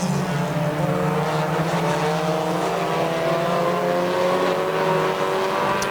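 Race cars in a Sept. 2, 2022 TSS heat race lap the track as the top four battle with two laps to go, engines droning loud and continuous with rising and falling pitch, no voices.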